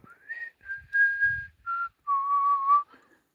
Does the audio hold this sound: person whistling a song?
yes